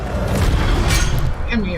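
Incendio fire spell cast in Hogwarts Legacy, a loud roaring burst of flame with a low rumble and crackle, dense and close, with a voice talking over it.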